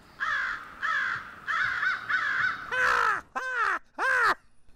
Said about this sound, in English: That was a crow, right? Yeah, it's a crow.